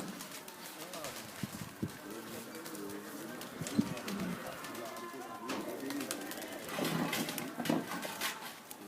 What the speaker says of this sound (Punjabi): ਇਹ ਕਬੂਤਰ ਫੜ ਲਓ ਯਾਰ